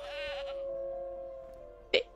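Goat bleating in the Preserve video game, a single short bleat near the end rising over a steady musical game background.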